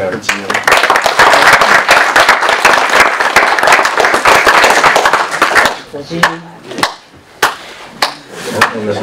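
Audience applause at a hospital New Year's greetings ceremony in Malestroit, a dense, loud burst of many hands clapping for several seconds that thins into scattered claps and brief voices toward the end.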